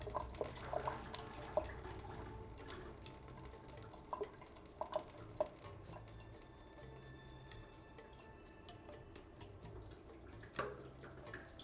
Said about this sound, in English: I'm just going to draw off any remaining water in the system.